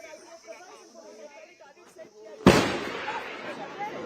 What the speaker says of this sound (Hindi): ये तेज धमाकों के साथ अब हाइडआउट को बस्ट करते हुए